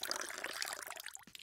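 Jingle sound effect of liquid pouring, a continuous bright splashing trickle that fills the whole moment and tails off near the end, fairly close and alone without speech.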